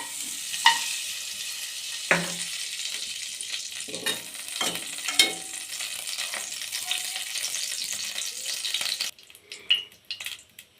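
Cashews and raisins fry in two tablespoons of ghee in a kadai for semiya kesari, a soft sizzle broken by spoon clinks and scrapes against the pan. Near the end the sizzle cuts off and only a few knocks follow.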